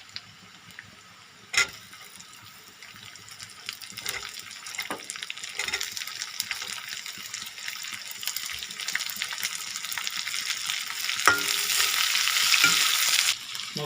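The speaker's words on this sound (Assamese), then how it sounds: "এতিয়া মই কাটি ৰখা পিঁয়াজখিনি দি দিম" Chopped onions hit hot oil in a pan while chana dal is being made. A sharp drop sets off a close sizzle that grows steadily louder and denser, with occasional stirring clinks.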